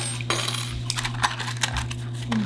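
Metal lock picks and tension wrenches are handled close by, giving light, bright metallic clinks and small rattles over a steady low electrical hum.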